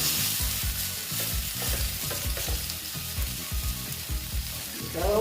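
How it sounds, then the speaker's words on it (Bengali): Spices with turmeric frying in a pan for a Bengali bata fish curry with brinjal and potato, a close steady sizzle under busy rhythmic scraping and stirring, with no talk. "তারপরে দিচ্ছি আমি হলুদ দিয়ে এবার আমি এটাকে একটু কষিয়ে দেব"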